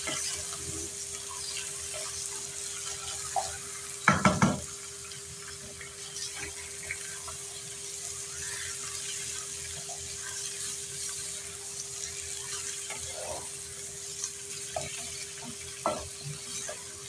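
Meat (gosht) sizzles and fries with golden-brown onions in a pot, a steady crackling hiss with scattered stirring clatters and one louder clank early on.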